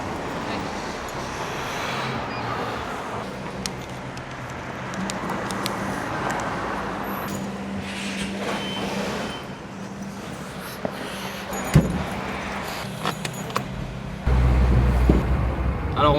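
A Mercedes 190 SL with a 105-horsepower four-cylinder engine drives along, a moderate steady road and engine hum heard from inside, with scattered small knocks and a louder burst near the end.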